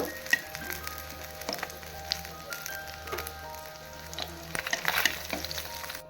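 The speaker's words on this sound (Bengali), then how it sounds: "দুই সাইড থেকে আমি একদম লাল লাল করে ভেজে নেব" Fish fry in oil in a pan with a steady low sizzle, crackling softly with scattered pops and light stirring, heard close and alone.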